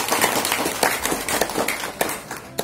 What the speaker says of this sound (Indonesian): Tepuk tangan dari luhur dulu.